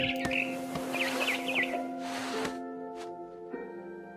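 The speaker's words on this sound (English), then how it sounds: "Then I heard chirping outside my window." Barn swallow chirps in the game What Remains of Edith Finch: several short, bright tweets in quick clusters over a steady, tonal ambient game soundscape, moderately close.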